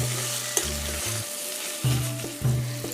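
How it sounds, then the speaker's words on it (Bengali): Mashed potatoes frying in a pan with spices as filling for potol chop, a close steady sizzle broken by several rhythmic scraping stirs of a spatula against the pan. "আলুগুলো দিয়ে আমি আবার একটু ভালো করে ভেজে নেব"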